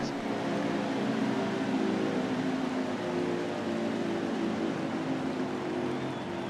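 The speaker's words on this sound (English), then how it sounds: "I'm hearing the engine's throttle back" Race car engine in a Daytona 500 racing video game drops in pitch and throttles back, a steady broadband drone holding at one level through the stretch with no voices over it.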